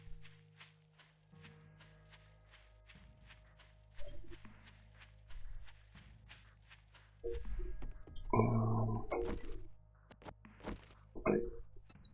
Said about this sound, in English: Keep hearing random footsteps, but I can't see anyone.